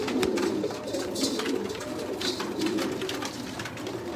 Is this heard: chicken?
no